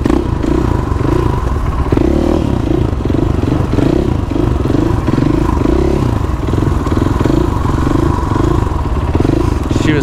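Supermoto motorcycle engine in a video game, a steady loud drone with rhythmic pulsing as the bike runs toward a jump, continuous throughout with faint clatter, and a voice appears to talk at times.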